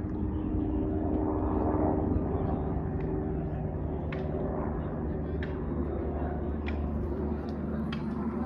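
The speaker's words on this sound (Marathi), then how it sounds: "हेलिकॉप्टर" A helicopter's engine drones steadily overhead the whole time on a hill trek to Vaishno Devi, a constant low rumble with a faint ticking, while people talk nearby.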